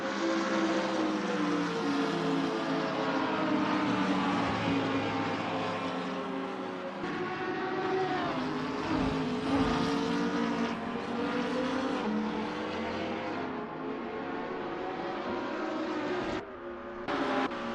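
Lamborghini Huracan GT3 race car engine in Assetto Corsa, droning loudly and steadily throughout with rising and falling pitch as it shifts through gears, and a brief dip near the end.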